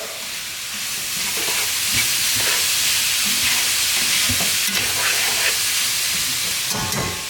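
Shrimp and grits cooking in a pan give a steady close sizzle and fry hiss that runs throughout, broken by scattered soft clicks and scrapes of stirring.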